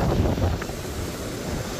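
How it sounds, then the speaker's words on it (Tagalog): Strong ocean waves break near the shore at Bucana, a dense low rumbling wash with heavy wind buffeting the microphone, loud and continuous, with no voices. "Ang lakas ng alon ngayon"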